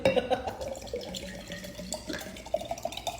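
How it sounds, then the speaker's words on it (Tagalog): Faint running water trickles and splashes softly, with small drips and gurgles, fairly quiet and close. "Tubig yan?"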